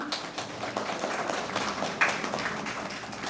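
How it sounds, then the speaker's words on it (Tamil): Steady applause from a crowd, a continuous wash of clapping that holds at an even level throughout. "உங்களுடைய உற்சாகமான கரகோஷம்"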